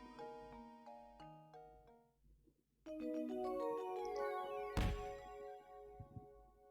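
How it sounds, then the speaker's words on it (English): Stamp sound effect in the Professor Layton video game, a bright chime-like flourish of ringing tones after a brief pause, capped by a sharp thud-like hit, heard alone with game music. "That sound effect for the stamp is almost the exact same one from Grey's Attorney."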